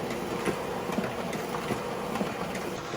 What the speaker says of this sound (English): You probably hear my printer going in the background because it's printing documents.